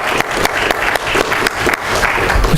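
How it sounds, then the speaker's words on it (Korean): A church congregation claps in thanks for a young accompanist, a short burst of dense, lively applause close by with no talk over it. "우리 감사의 박수를 한번."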